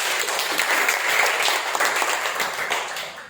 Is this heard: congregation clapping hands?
yes